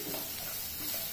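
Frying onions, green chilies and ginger garlic paste being stirred in a pan for South Indian tomato rice, a continuous close sizzle with faint scraping of the stirring utensil.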